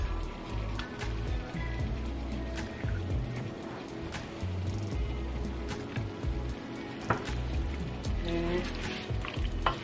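Tomato sauce being stirred into chili in a pot on the stove, a steady simmering sizzle with soft scraping and stirring sounds running throughout, close and continuous.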